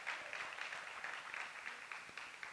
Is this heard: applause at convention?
yes